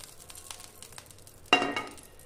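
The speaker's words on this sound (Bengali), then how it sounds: "এটা আমি একটু ঘিতে একটু ভেজে নেব।" Fox nuts and whole dried chillies hit hot ghee in a pan with a sudden loud sizzle after a quieter stretch of light stirring, then keep crackling and hissing steadily up close.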